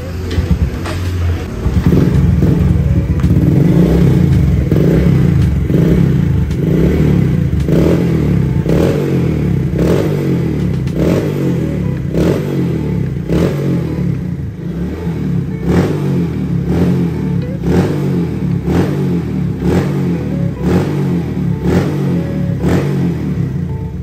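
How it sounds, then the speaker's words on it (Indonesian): A Yamaha Vega ZR motorcycle with a stainless exhaust and a hollowed-out stock silencer revs loudly and close up, its engine note rising and falling in repeated throttle blips over a steady idle for the whole stretch. "Kira-kira seperti itu suaranya dari si Vega ini."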